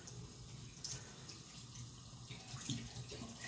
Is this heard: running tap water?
yes